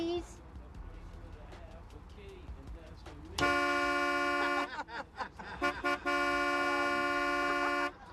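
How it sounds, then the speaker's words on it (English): A car horn blares outdoors on a street in two long, loud, sustained blasts, broken by a short gap with brief stuttering honks, while some rustling and movement sound underneath. "It's time to stop the horn from honking"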